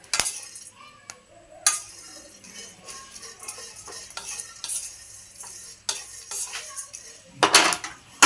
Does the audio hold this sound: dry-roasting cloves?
yes